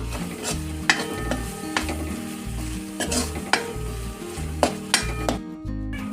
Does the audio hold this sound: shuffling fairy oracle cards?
no